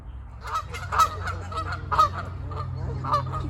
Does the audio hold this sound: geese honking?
yes